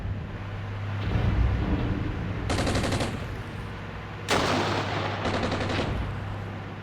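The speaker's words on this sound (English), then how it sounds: "Fire my last big artillery in here." Artillery fire in the Armored Brigade 2 war game: a sustained rumble of distant gunfire, broken by two or three sharp, loud bursts of rapid explosive reports.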